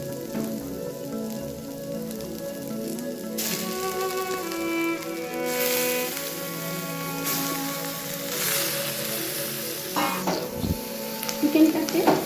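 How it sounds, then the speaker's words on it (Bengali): Chicken pieces frying in a pan over already-fried vegetables, a steady soft sizzle and crackle running throughout with occasional stirring clatter near the end, with a voice talking at times. "চিকেনটাকে এই ভাজার সাথে হালকা করে একটু ভেজে নেব।"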